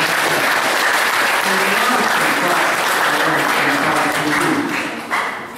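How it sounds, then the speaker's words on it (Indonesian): An audience at a meditation talk breaks into steady, dense clapping that holds loud for several seconds before tapering slightly at the end. "Tepuk tangan"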